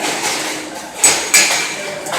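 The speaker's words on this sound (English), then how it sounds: "And you'll knock off your slag." A few sharp metallic knocks of a slag hammer chipping slag off a stick weld ring out against a steady hiss, two distinct strikes close together.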